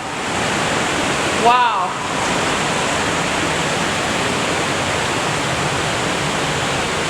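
Steady broadband rush of a glacial river flowing beneath the Mendenhall Glacier, a loud continuous wash of water, with a person briefly exclaiming near the start.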